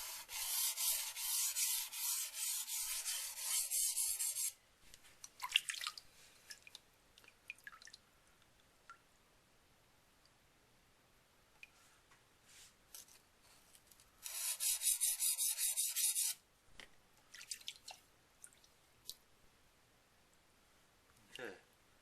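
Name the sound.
blade sharpened on Nubatama whetstone, setting micro bevel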